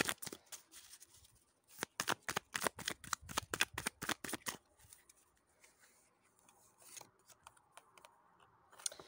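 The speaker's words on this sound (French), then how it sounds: "Au niveau sentimental, on va tirer 2 cartes" Tarot cards riffled and shuffled close up, a rapid run of crisp flicking slaps for several seconds, then softer sliding and handling as cards are drawn, with no talking.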